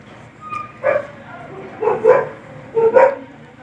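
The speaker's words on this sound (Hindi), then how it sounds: "बाहर से डॉगी भौंक रहा है" A dog barks several times in short bursts from a distance outside, with quiet pauses between the barks.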